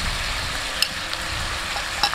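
Garlic sizzling in a pot with shrimp, a steady close frying hiss with a few light clinks of stirring, no talking.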